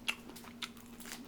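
Crisp bites into a pan-fried Vietnamese banh xeo crepe, two or three short crunches spaced apart, close and fairly quiet against a faint steady hum.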